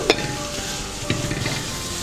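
Crushed green chillies and garlic stirred into biryani masala frying in a pan for fish biryani, a steady sizzle with a couple of sharp spoon scrapes, close and fairly loud.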